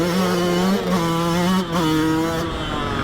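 A Yamaha YZ125X two-stroke dirt bike being ridden, the engine a loud, close, buzzing wail that rises and dips with throttle changes and briefly chokes off between shifts.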